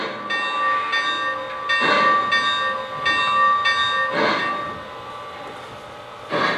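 A Lionel Legacy Milwaukee Road S-3 model steam locomotive sounds its bell, a steady ringing tone repeated in an even rhythm, with a soft hiss of steam bursts in between, clear and close.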